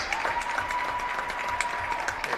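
Steady crowd applause and cheering fills an arena honoring NCAA national champions at a California (PA) vs Edinboro college event, continuous and dense throughout with a faint tone humming underneath.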